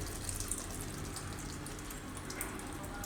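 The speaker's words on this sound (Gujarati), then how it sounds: "કોબીમાં પાણી હોય ને મીઠાનું પાણી થાય, એટલે આને આપણે આ રીતે દબાવી અને બધું પાણી કાઢી નાખીશું" Water pressed out of salted shredded cabbage by hand, a steady close trickling and dripping patter that runs unbroken with no talk.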